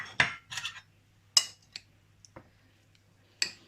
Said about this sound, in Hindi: ये गाजर, और इसके साथ ही इसमें सारे ये मसाले, और इनको अच्छे से मिक्स करेंगे।